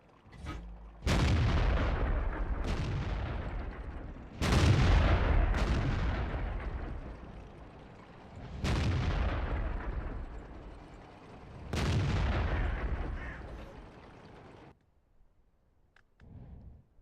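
Heavy artillery blasts and gunfire from a World of Tanks match on a test server, five big booming shots each trailing off into long rumbling decay, loud and close with brief gaps between.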